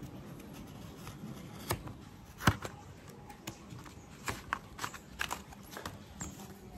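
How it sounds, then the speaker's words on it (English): A blade slices through the pages of a book being cut for a vase, giving soft rubbing scrapes and a series of sharp, distinct cutting snicks, close and fairly quiet, with no talking. "now I can flip this side and cut the beginning pages"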